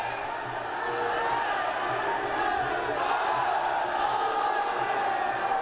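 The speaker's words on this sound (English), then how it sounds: "The crowd yells with each and every strike." At Rajadamnern Stadium, a packed Muay Thai crowd roars and yells steadily, a loud and dense wall of voices that swells in waves with the strikes.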